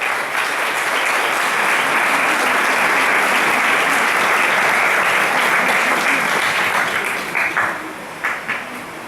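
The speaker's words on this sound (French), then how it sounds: "je vous demande de les applaudir." Staff gathered for a French local authority's New Year greetings applaud strongly and continuously for several seconds, then the clapping thins out into a few scattered, separate claps before stopping.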